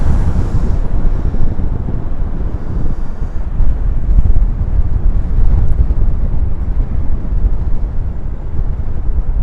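Strong wind blasts across the microphone on a windy bridge, a loud, continuous low roar and buffeting rumble that holds steady with slight surges throughout, with no one speaking.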